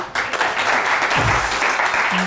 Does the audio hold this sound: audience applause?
yes